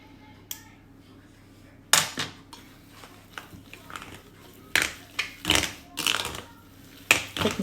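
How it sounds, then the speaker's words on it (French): A spoon stirs mashed sweet potato purée in a bowl, giving scattered clinks and scrapes against the dish in short bursts, fairly close, separated by quiet gaps. "غنخلطها غير بمعلقه."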